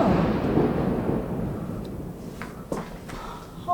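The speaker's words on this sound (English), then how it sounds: "I heard the biggest crack of lightning" Rumbling thunder from a nearby storm rolls broadly and loudly through the whole stretch, then a sharp crack of lightning strikes near the end.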